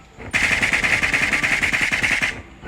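Sustained automatic gunfire from the video game Sausage Man rattles in a rapid, even burst for about two seconds, loud and close, with no talking over it.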